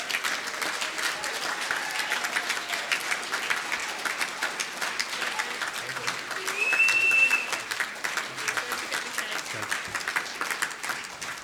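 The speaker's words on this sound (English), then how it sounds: "So Katie, your public wishes to give you a round of applause." An audience at a trust's annual members meeting gives Katie a round of applause, with steady, sustained clapping from a large room that swells briefly midway and continues evenly to the end.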